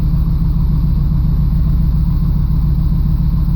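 A 1989 Camaro engine, cold but freshly running after a fuel pump and filter replacement, idles with a steady low rumble, close and loud, holding an even tone throughout with no voices.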